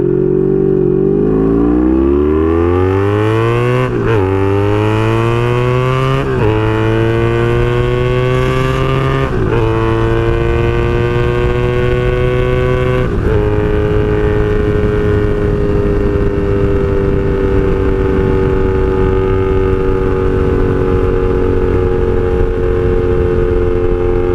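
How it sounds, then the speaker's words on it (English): A 1982 Honda Magna VF750C motorcycle with straight pipes, ridden and accelerating hard, its loud engine whine climbing through several gear shifts before settling into a steady high-speed drone. "we are back on the 82 Honda Magna VF750C for another motovlog"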